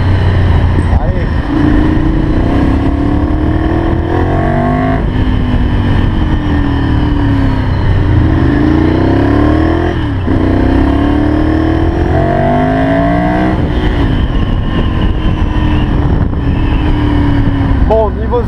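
Ducati Monster 796 motorcycle ridden on the road, its engine rising and falling through repeated rev sweeps as gears change, loud and close over wind rush, with a rider talking over it.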